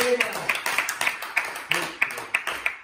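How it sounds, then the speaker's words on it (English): A church congregation clapping hands in a steady rhythmic beat, about three claps per second, sharp and fairly close, with a voice faintly underneath. "You can be seated if you want and give him a hand clap."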